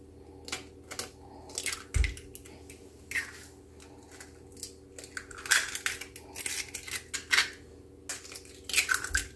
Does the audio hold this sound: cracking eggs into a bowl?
yes